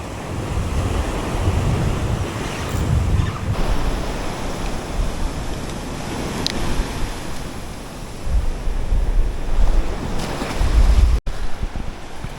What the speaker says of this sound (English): Waves coming right up into the bushes.